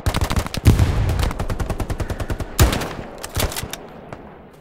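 Automatic machine gun fire in the World War II shooter Hell Let Loose, loud rapid bursts with a couple of heavier impacts standing out, no talk over them.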